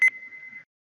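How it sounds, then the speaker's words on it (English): A single electronic beep from the Phoenix Wright: Ace Attorney video game, a short steady tone with a brief louder onset, clean and alone with no talk. "Beep."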